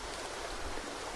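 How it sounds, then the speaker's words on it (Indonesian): The Cimandala river on a Gunung Kumbang mountain hike, heard as a steady, close rushing wash of flowing water with no voices. "Lihat sungai Cimandala"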